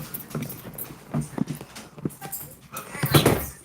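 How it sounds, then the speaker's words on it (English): An excited puppy scrambles and pads about, with quick clattering footfalls, bumps and snuffly noises coming in uneven bursts close by. "The puppy is happy."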